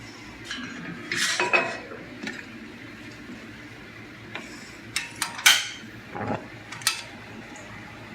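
A pot of okra and water is set on a kitchen stove, giving several scattered metallic clanks and clinks of pot against burner, close and sharp, separated by quiet pauses.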